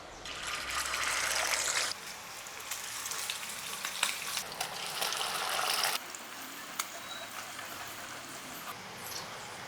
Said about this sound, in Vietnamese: Dầu sôi thì mình sẽ cho phần cá vào chiên nha.